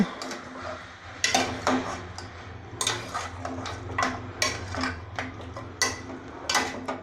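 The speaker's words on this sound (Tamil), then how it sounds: "நல்லா கிண்டி விட்டுக்கலாம்" Mutton being stirred in a cooking pot, a steady low sizzle beneath repeated sharp scraping and clinking strokes of a ladle against the metal pot, irregular in rhythm and close by.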